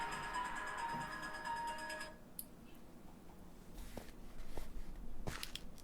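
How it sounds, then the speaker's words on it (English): Mobile phone ringtone heard indoors: a steady melodic electronic tone loops for about two seconds, then stops, followed by faint rustling and a few light knocks and clicks, with no talking. "My phone rang."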